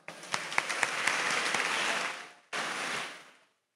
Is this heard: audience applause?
yes